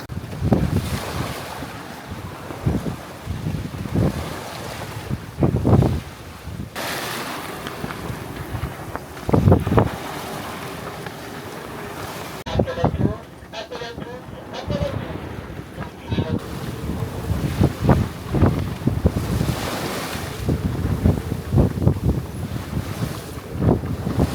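Sea waves wash and slap around a sailing boat underway at night, with steady wind buffeting the microphone and recurring surges of water; faint voices come through at times.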